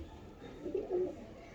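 Pigeons cooing softly in a coop where a hen sits on an egg, a few low murmuring coos rising midway, quiet and close with faint room noise.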